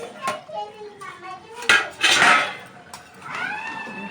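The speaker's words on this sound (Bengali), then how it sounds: "ঢাকনা দিয়া দিলাম" A metal lid set down on a pot of simmering meat in a home kitchen, with a clattering clank of cookware midway among lighter knocks and a short vocal sound near the end.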